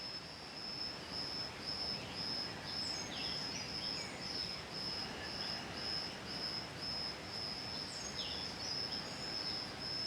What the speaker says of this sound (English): I'm sure you can hear the birds though.